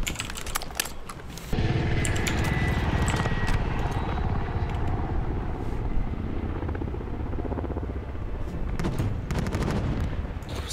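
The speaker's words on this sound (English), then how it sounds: "The attack chopper shooting at up there." An attack helicopter in the video game Call of Duty Warzone roars steadily, with rapid gunfire and sharp clicking bursts at the start and end of a dense, continuous battle din.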